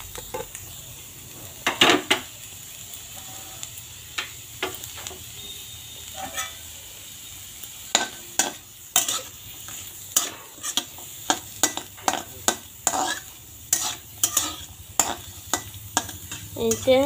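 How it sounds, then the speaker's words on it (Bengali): Garlic, green chilli and onion are dry-fried without oil in a wok, with repeated close spatula scrapes and clatters in an irregular rhythm over a faint, low hiss. "এই তেল ছাড়া এই কড়াইতে আমি এগুলো সব ভেজে নেব"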